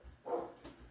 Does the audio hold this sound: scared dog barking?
yes